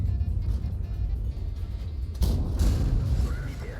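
Heavy booming impacts of gold shells striking the front armor of an IS-3-II tank in a tank battle game, a low rumble giving way to a loud crashing hit, with a voice talking over it.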